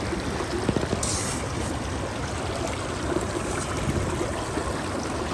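Steady rush of water pouring through a gold sluice box set up at a stream in Denver, a constant close trickling wash with no talk.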